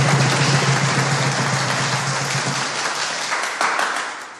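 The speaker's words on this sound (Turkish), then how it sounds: "Alkışlar lütfen" Audience applause during a Turkish comedy film scene, a dense wash of clapping that fades slowly toward the end.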